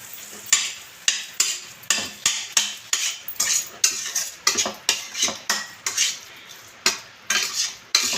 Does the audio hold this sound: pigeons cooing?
no